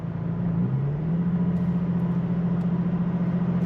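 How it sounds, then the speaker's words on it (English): Toyota Tacoma engine fitted with a Rough Country cold air intake, heard from inside the cab: a steady, deep idle drone that dips slightly and then holds even for about four seconds, with no talking. "A lot more like deep throttle tones coming from the truck."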